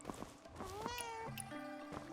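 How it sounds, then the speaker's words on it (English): A cat in a video game meows in a long, drawn-out wavering call followed by a second lower meow, clear and fairly loud over faint background game sounds. "Kitty, kitty. I heard kitty. Kitty!"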